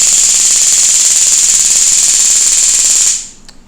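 A Taser makes a bad deployment against a conductive target: a steady, rapid electrical crackle runs continuously for about three seconds, then cuts off into a faint tail, with no voices.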